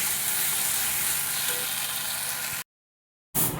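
Garlic paste frying in hot oil for a rohu fish curry gives a steady, loud sizzle that cuts out abruptly partway through, then sizzles again briefly at the end.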